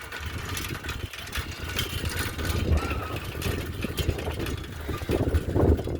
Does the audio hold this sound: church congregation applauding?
no